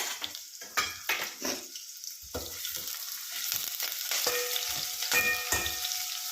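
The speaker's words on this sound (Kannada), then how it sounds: "ಫಸ್ಟ್ ನಾನು ಒಗ್ಗರಣೆ ಕೊಡ್ತಾವಳೆ" Steady sizzling of spices and curry leaves tempering in hot oil with sharp crackles and pops, close by, alongside occasional clinks of a utensil stirring in the pan.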